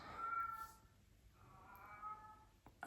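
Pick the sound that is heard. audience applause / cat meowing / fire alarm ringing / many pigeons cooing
cat meowing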